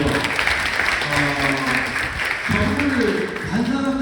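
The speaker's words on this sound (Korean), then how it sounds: "박수 한번 보내주세요." Steady applause from an audience at a book talk fills the room while a voice talks over the clapping.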